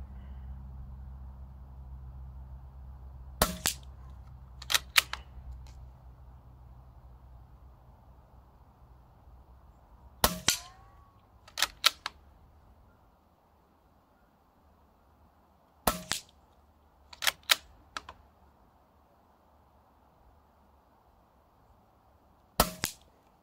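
Weihrauch 110 air rifle firing pellets outdoors: six sharp, loud cracks with quiet pauses between them, several followed by a brief second snap from the pellet striking the target, set against a faint background hum.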